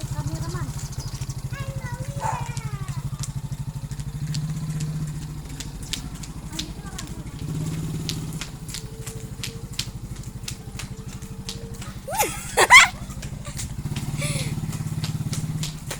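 A motorcycle engine runs with a steady low rumble, fading and swelling, with a sharp thud and clatter near the end and faint voices in the background.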